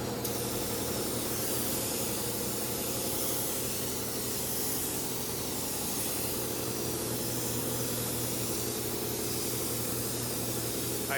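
A spray gun sprays a metallic single-stage paint coat onto a car, producing a continuous, even hiss that lasts the whole stretch with no talk and no pauses.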